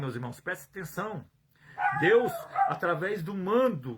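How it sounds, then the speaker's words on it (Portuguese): A dog barks nearby in short, repeated yips beneath a man preaching a sermon in Portuguese, his steady voice continuing over the barks. "tem um cachorro latindo aqui"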